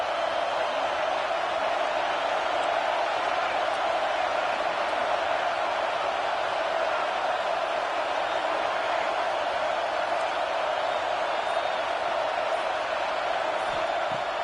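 Loud, steady roar of a stadium crowd in the CFB 26 college football video game, a dense wall of noise sustained without a break as fans push for a 4th down stop.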